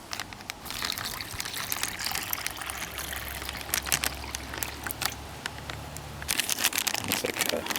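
Water pours steadily into a crinkly plastic MRE ration pouch, a continuous trickling splash with occasional crinkling of the bag, close and fairly quiet.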